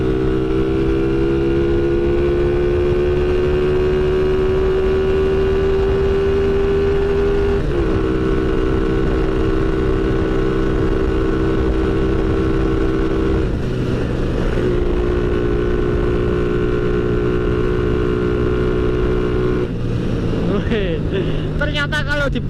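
A motorcycle engine drones loud and close as the bike accelerates along a road at night, with the pitch rising steadily and the rider talking over it.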